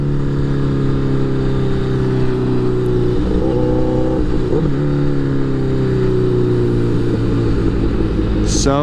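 Honda CBR1000RR sport bike engine running under load, a steady loud mid-pitched drone with harmonics that shift and climb as the rider works through the revs, heard close from the bike itself, with a brief rising whine near the end.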